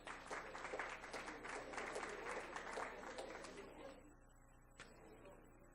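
Quiet audience applause for award-winning elementary schools at a school board meeting, several seconds of brisk clapping that thins out and fades, with a single clap near the end.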